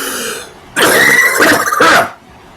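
A person coughs and clears the throat in a loud, harsh burst lasting about a second, heard close and alone with no talking over it.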